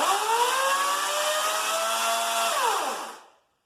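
An EGO 14-inch battery-powered chainsaw whines at a steady high pitch at full speed for a few seconds, then winds down quickly and falls silent.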